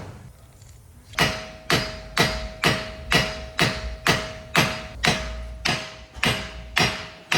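Heavy hammer blows on a stuck CV axle in a car, about a dozen loud metallic strikes at a steady, roughly half-second rhythm, each ringing briefly with a clear tone, close up and without talking.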